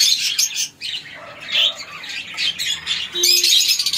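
Fischer's lovebirds, a lutino split pair among others, squawk and chirp in a cage in a busy, overlapping chorus of sharp calls, with faint wing flutters throughout.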